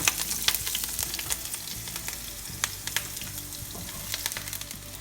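Green chilies fry in hot oil over a lowered flame for restaurant-style Chicken 65, giving a bright crackling sizzle with frequent sharp pops and spits, moderately quiet and steady, no voices.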